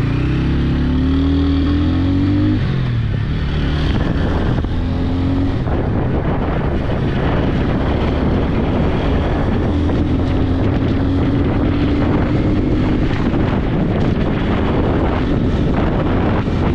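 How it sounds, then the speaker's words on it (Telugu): A 2025 TVS Ronin 225cc motorcycle hums under throttle while riding, its engine tone rising at the start before being largely buried in a strong, continuous rush of wind. "థ్రాట్ల్ ఇచ్చినప్పుడు వచ్చే ఎగ్జాస్ట్ నోట్ క్రేజీగా ఉంది"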